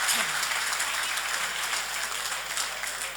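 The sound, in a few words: applause for Polisportiva Bonorva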